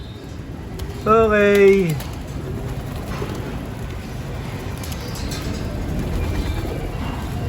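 Pigeons at a backyard loft give a brief, loud cooing call near the start, then fade into a low ambient rumble. A short spoken word comes through in the background.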